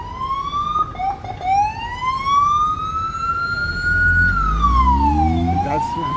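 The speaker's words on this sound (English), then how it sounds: "This is an ambulance." A wailing ambulance siren sweeps up and down in pitch, loud and close, with a low engine rumble building underneath toward the end.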